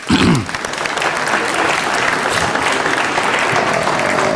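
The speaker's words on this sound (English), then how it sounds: "Give Ellis a big round of applause, won't you?" Audience at a city council meeting applauds steadily and loudly for a city department head taking a bow, with a brief voice at the very start before the dense clapping fills the rest.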